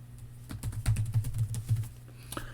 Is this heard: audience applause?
no